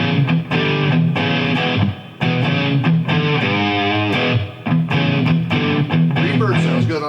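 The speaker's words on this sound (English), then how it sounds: "Both amps running on some reverb." Loud, distorted electric guitar from a Gibson SG Standard playing chords and lead runs through Marshall TSL and Peavey 5150 amplifiers in stereo, with a roomy reverb tail ringing after each phrase.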